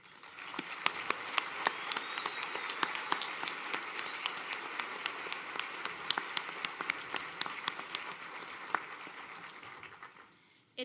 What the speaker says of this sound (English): We are sending you a huge round of applause to show our appreciation.